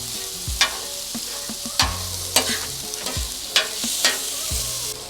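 Sausages fry in avocado oil in a hot pan, a steady close sizzle with repeated sharp scrapes and clacks of a utensil turning them, no voices.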